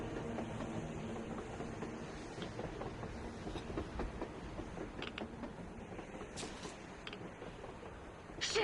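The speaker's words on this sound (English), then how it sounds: "A train! A damn train on the surface!" A train rolls along on the surface in the Metro Exodus video game, with a dense, continuous rumble, creaks and metallic clicks passing at a moderate distance.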